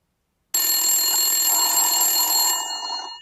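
Telephone bell ringing loudly and continuously for about two seconds after silence, a bright metallic trill that cuts off and decays, with no talk over it.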